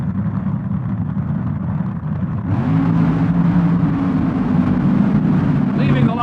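Funny cars at the 1975 NHRA World Finals launch off the drag strip line, led by Don Prudhomme and Raymond Beadle: a loud, sustained engine roar that swells as they pull away, under an announcer's voice.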